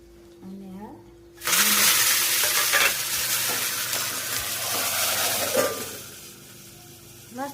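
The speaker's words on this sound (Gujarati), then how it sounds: "સરસ મજાનો દાળનો વઘાર થઈ જશે" Dal tempering sizzles loudly in a hot pan as it is stirred, a sudden burst of crackling frying that settles into a steady hiss and slowly fades, with faint voices before it begins.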